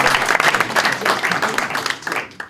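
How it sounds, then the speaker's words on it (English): A theatre audience claps for a volunteer coming up on stage, a brief burst of many hands that rises and falls unevenly before cutting off. "Can we have a round of applause for our brave volunteer?"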